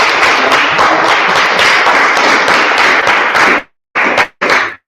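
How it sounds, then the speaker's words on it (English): Audience applause at a Nation of Islam talk by a student minister, a dense, loud burst of many hands clapping for about three and a half seconds, then cutting off, followed by two short, sharp spurts of clapping. "Ms. Garber, give Ms. Garber a round of applause."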